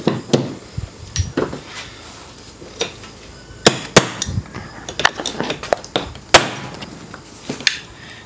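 A hammer strikes a punch to drive a piston pin out during engine work, giving sharp, irregular metallic knocks, several close together and others spaced apart, close and loud against a quiet garage background.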